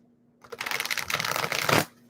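Tarot cards riffle in one quick shuffle, a dense papery flutter lasting just over a second and ending in a soft snap, close and clear in a quiet room.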